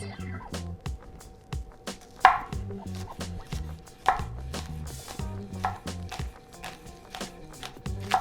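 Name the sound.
knife cutting green onions into thin rings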